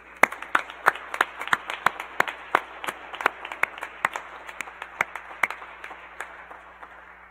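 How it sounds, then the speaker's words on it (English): Scattered applause from a small crowd at a university physics and astronomy senior celebration, sharp individual claps ringing out irregularly over a steady hum, thinning slightly toward the end. "please join me with a round of applause"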